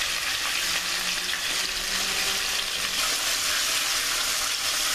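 Buttermilk-marinated chicken pieces deep frying in hot oil, giving a steady, dense crackling sizzle throughout without pause.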